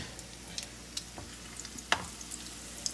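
Potato latkes frying in hot, bubbling oil, with a steady low crackle and a few sharper pops and spits, including one louder burst near the middle, close by with no talk.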